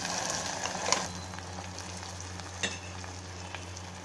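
Ground tomato and mint paste with green chillies and ginger fries in hot oil in a pan, a steady close sizzle with a few stirring scrapes and knocks, no voices.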